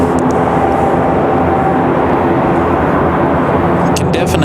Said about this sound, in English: You can definitely hear the ATR all over the place.